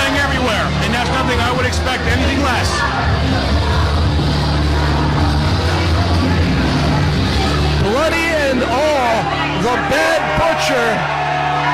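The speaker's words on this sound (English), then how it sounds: "soaks in the cheers of this capacity crowd" A capacity crowd cheers at a wrestling show, a loud and steady roar of yells and hubbub that runs under a commentator talking throughout.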